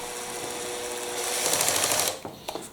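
A cordless power drill on torque setting 1 drives a screw into a Wilko Oxford radiator cover, a brief whirring motor that rises then stops with a couple of clicks from the clutch, close and alone.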